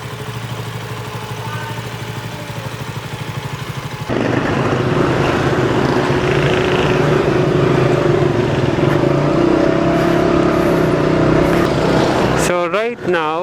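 KTM Duke 200 motorcycle with a GIVI XS307 tank bag, its engine droning steadily up close and growing louder as the ride gets under way, overlaid with rushing wind, while a voice talks over it near the end.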